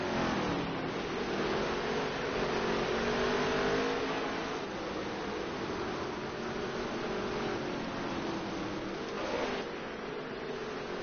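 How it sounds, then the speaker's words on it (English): Race cars lap a track during a NOSSCAR DT Series championship race, engines roaring continuously and close, their pitch rising and falling as they accelerate and shift. "Oh, and Eddie got loose trying to keep his car off him."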